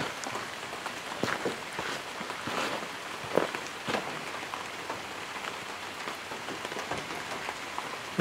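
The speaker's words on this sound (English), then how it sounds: "It's still raining out pretty good" Steady rain falls outdoors at a building site for a DIY off-grid outdoor kitchen, a dense continuous patter broken by occasional louder, closer drops.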